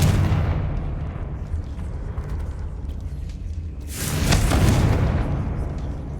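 In the Hogwarts Legacy video game, the Confringo fire spell sets off a sustained rumbling roar, then a louder booming blast swells up about two-thirds of the way through and fades.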